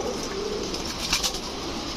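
A club racing pigeon kept among domestic birds makes soft, low cooing sounds against a steady background hum, with a couple of brief brighter chirps or wing sounds near the middle.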